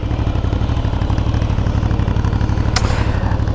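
An Aprilia Shiver 900, an Italian motorcycle, runs with a steady, even pulsing engine note close by. One brief sharp hiss cuts through near the end, and no one speaks.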